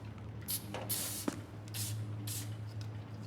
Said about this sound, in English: could you check if I have rust spray somewhere in this?